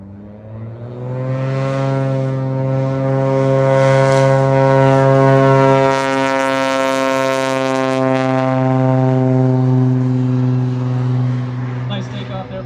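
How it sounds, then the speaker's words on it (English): A 1964 Cessna 185 taking off at a STOL competition in Valdez sends out a loud, sustained, droning piston-engine roar that swells and holds steady throughout. "Nice takeoff there by Rod Hanson."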